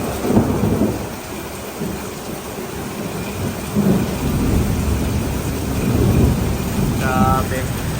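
Heavy rain pours steadily with deep rolling thunder rumbling through, a loud, dense storm that swells and fades over several seconds.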